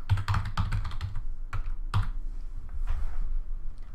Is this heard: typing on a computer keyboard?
yes